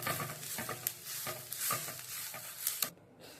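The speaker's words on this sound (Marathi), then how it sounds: "आता ह्याच्यात मी खोबरं भाजून घेणार आहे" Grated coconut roasting in a pan for a spicy chicken masala paste, with dry scraping and stirring strokes over a soft sizzle, close and steady, ending abruptly.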